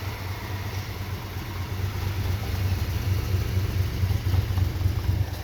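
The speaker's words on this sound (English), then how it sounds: "I'll also walk to the back so you can hear it out the back with the exhaust" A 1965 Ford Mustang GT K-code engine idles with a deep, steady exhaust rumble, loud and close, with no one speaking.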